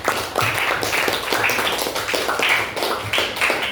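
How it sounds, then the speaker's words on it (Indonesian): A grade 8 class gives a steady round of applause for the first group in an Indonesian-language fiction presentation, a dense patter of many hands clapping together for nearly four seconds. "Kita kasih aplaus untuk kelompok 1 ya."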